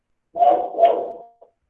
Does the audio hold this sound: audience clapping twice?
no